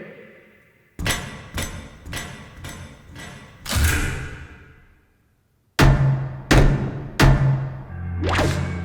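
Heavy thumps land one after another, a first run of five spaced blows ending in a louder ringing hit, then a pause of silence and a second run of booming knocks.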